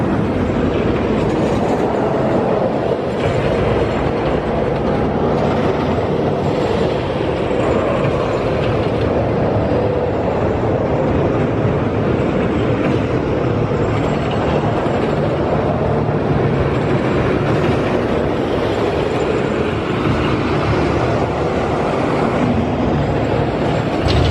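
A continuous rumbling, clattering roar of a roller coaster train rolling along the track at Six Flags Fiesta Texas, loud and steady throughout with rattling mechanical texture.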